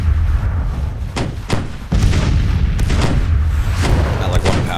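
Artillery fires counter-battery shots in Grand Tactician: The Civil War, with 1-pounder guns on hand. Several dull booms and thumps land irregularly over a steady rumble of battle ambience.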